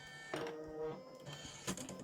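An embroidery machine stitches an in-the-hoop coaster with a small 4x4 hoop, working a pink cancer awareness ribbon design; a steady, fairly faint mechanical whir with rhythmic needle chatter.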